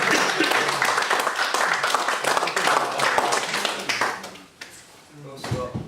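Applause for an award recipient at an awards ceremony, a room of people clapping steadily and fairly close, then thinning out and fading near the end.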